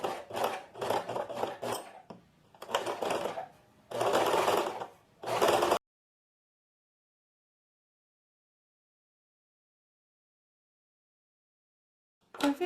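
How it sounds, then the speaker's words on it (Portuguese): A domestic sewing machine runs in short, close bursts of stitching on a short-sleeve shirt, stopping and starting, then goes silent for several seconds before one last brief run. "a gente vai para o segundo pesponto. Dessa vez aqui com a máquina"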